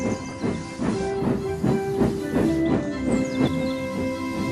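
Steam hisses loudly and up close from Gordon, a steam locomotive with a burst safety valve, coming in repeated rhythmic gushes over a lingering tonal hum.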